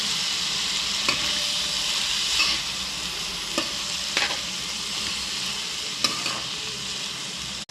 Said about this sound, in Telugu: ఇప్పుడు దాన్ని మనం తిప్పుతామండి. ఇలా మిక్స్ చేసుకోవాలి.